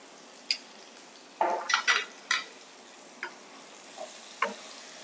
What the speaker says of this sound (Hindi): आलू हमारा बहुत ही अच्छी तरह से फ्राई हो गया है